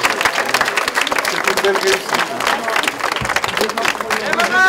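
An audience applauds a costume maker named Nadia at a baptism celebration for Jean III de Trazegnies, steady clapping with crowd murmur, while someone speaks over it.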